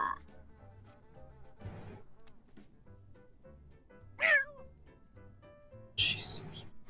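A cat meows in The Sims 4 game, two short, clear meows over quiet, gentle background music, with a soft voice nearby.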